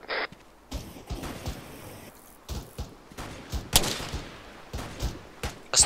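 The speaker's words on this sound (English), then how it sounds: "This is Fox taking incoming fire from 80" Gunfire crackles through an Arma 3 multiplayer military operation, a series of sharp, irregular shots and thuds, some close and loud, others more distant, spread across several seconds.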